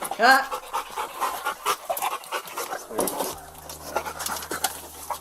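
Police dog in a video game pants heavily with a short harmonic whine near the start, followed by steady panting and game ambience with a low hum under intermittent voices.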